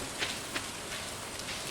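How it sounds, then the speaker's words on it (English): Rain falls as a steady, diffuse hiss, with a couple of faint drop taps standing out near the start. "Raining, so we don't have to water."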